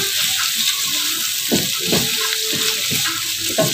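Shallots, garlic and bay leaves fry in a pan with a steady, close sizzle, broken by a few scraping stirs of a utensil, with no talk over it.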